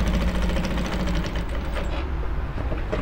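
A sewing machine stitches overlapping layers of fabric into a uniformly lapped seam, giving a steady, dense mechanical whirr close up that runs unbroken throughout.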